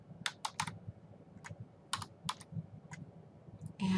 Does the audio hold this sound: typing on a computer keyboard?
yes